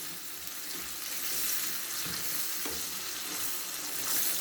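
Nigella seeds (kalonji), two or three pinches, dropped into hot oil for an aloo anday salan, giving a steady close sizzle and crackle that swells slightly mid-way, with faint stirring or clinking underneath.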